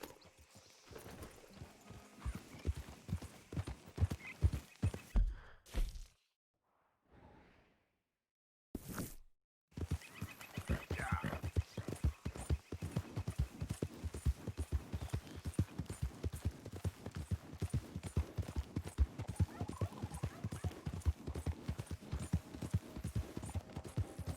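Steady clip-clop of horse hooves in the video game Red Dead Redemption 2, at a brisk, regular pace, loud and close, with a brief pause partway through before the hoofbeats resume.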